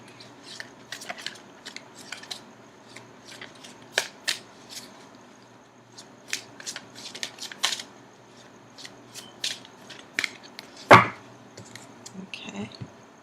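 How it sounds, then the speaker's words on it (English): Tarot cards are being shuffled, giving soft irregular riffles and slaps, fairly close and quiet, with pauses between bursts and one sharper knock near the end. "I'm going to continue shuffling for just a few more seconds,"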